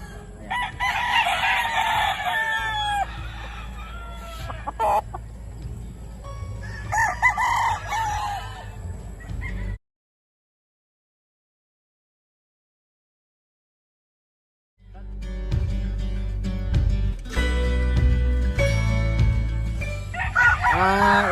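A rooster of the grey fighting-cock line crows several times with clucking around it, loud and close, then a few seconds of dead silence before more crowing and farmyard noise return.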